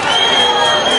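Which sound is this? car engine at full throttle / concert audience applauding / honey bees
concert audience applauding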